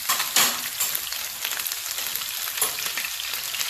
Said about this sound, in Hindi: इसे अच्छी तरह से भून लेंगे